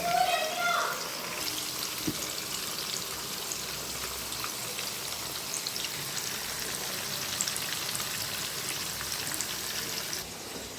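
Pieces of tuna fry in hot oil, a steady broadband sizzle and crackle that holds level throughout, with a brief louder burst at the start.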